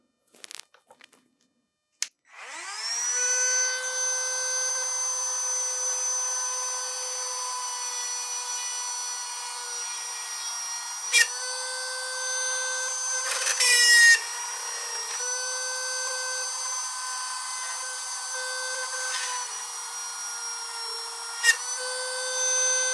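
A high-pitched Milwaukee M12 rotary tool with a drill bit whines steadily after a brief start, with a few short bursts of grinding contact against material.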